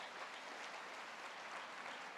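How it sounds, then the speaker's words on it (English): Steady applause from an audience, dense and even clapping filling the whole stretch without pause. "Round of applause to Riva,"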